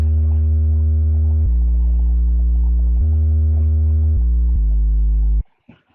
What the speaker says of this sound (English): I put some fast distortion on.